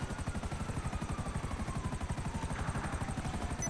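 A helicopter in GTA 5 Online gives a steady, rapid thudding of rotor blades, an even pulsing chop with a faint whine above it, heard alone at moderate volume.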